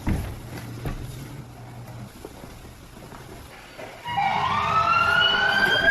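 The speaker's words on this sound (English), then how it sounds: "you play an ambulance noise" An ambulance siren sound effect, played as a prank, starts abruptly partway through with a loud wailing, rising and falling tone after a few quiet seconds of low rumble and small knocks.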